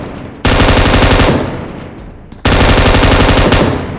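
Sustained automatic bursts from an M249 machine gun in a battle royale shooter game, loud and continuous with a sharp restart of fire midway through the clip.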